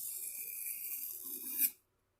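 Steady rasping strokes of a knife bevel drawn across a sharpening stone, a continuous gritty scrape building slightly before stopping abruptly into silence.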